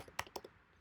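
A few quick computer keyboard key presses, close and crisp, with two sharp clicks followed by a softer tap, quiet and alone.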